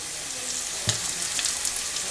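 A ginger thokku mixture with turmeric powder sautés in a pan, a continuous close sizzle with a brief clink and light stirring scrapes.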